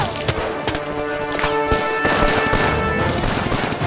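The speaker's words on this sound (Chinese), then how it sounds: "敌人火力太猛了" Heavy gunfire in a battle scene from a Chinese wartime guerrilla drama: dense, rapid bursts of sharp shots crackle continuously and loudly for several seconds.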